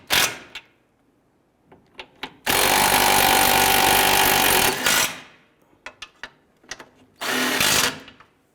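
A power tool runs down the lower motor mount nuts on a 2012-2017 Toyota Camry in two bursts, one long whir of about two and a half seconds and a shorter one, separated by clicks and metallic clinks.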